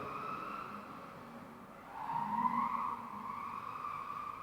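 An MJX C3 (10303) radio-controlled car slides across a painted floor, its small electric motor whining in a steady tone that swells louder midway as the car drifts, with no voices.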